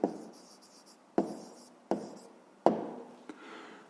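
Chalk taps and scrapes across a classroom board as a maths answer is written up, in four distinct strokes that each start with a sharp knock, fairly quiet and close, with no voices.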